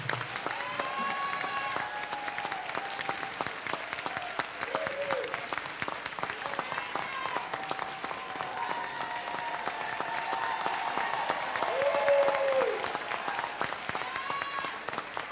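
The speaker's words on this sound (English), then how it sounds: "A round of applause for yourselves" Audience applause at a live music performance at the Sedona Performing Arts Center, dense steady clapping throughout with faint voices and sustained instrument or vocal tones underneath, swelling slightly near the end.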